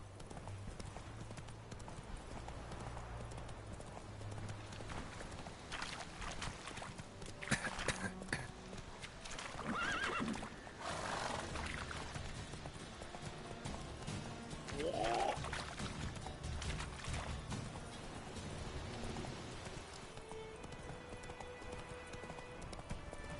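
Roach, the horse in Witcher 3: The Wild Hunt, gallops steadily with a rhythmic clip-clop of hooves over ambient game sound, with a brief whinny and occasional speech from a player.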